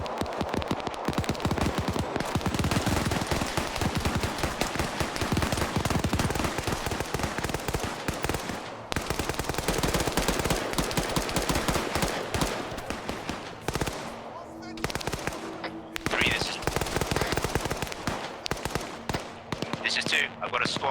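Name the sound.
machine gun fire in a military video game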